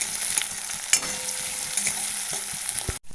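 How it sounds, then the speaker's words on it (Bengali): Chopped onion and garlic stirred in mustard oil in a wok, with steady close sizzling and frying hiss and soft scraping stirs throughout, and a brief louder clatter near the start. "নাড়াচাড়া করে নেব।"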